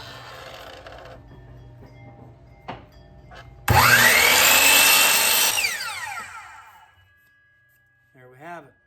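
A power saw bites into a glued-up wooden top, whining loudly for a couple of seconds before winding down, with shop noise and a faint hum beforehand and a brief tail at the end.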